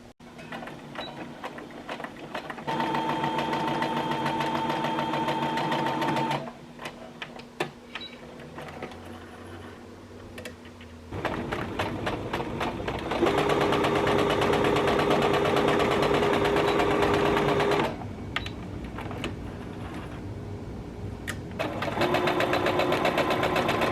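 A sewing machine quilts the pocket of a tote bag in several long steady runs of loud humming stitching, broken by short quieter pauses and softer handling sounds between bursts.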